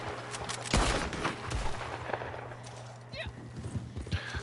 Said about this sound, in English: That gunfire off the canyon will always be a favorite sound of mine.